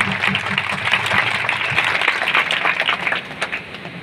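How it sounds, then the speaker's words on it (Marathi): Audience applause at a Shivaji Jayanti celebration in Dhanegaon, a steady dense crowd clapping that stays loud and even throughout, with no voices over it. "त्यांच्यासाठी जोरदार टाळ्या वाजवा"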